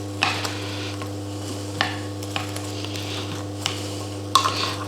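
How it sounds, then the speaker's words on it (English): Roast potatoes turned in a hot roasting pan, several scattered scrapes and clinks over a steady low hum and faint sizzle, close and moderately loud, with no talking. "we're just going to give them a little turn, make sure they get evenly cooked"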